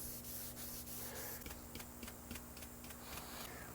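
Steady rubbing of fine acrylic sandpaper across a custom guitar body finish, a continuous close scratchy hiss with faint regular strokes and light ticking throughout, no voices.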